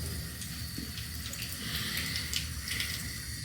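Water runs steadily to rinse out a shower after trim installation, a continuous hissing splash at moderate distance with no voices over it.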